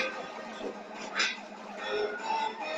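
An ambulance siren wails in the Spider-Man video game, a steady electronic tone over game noise, moderately loud with no talk.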